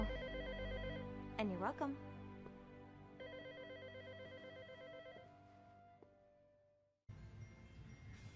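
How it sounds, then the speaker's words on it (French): A telephone bell rings in repeated bursts in a scene from the TV series Angel, season 5 episode 12, alongside music and brief speech. "Ensuite, le téléphone sonne"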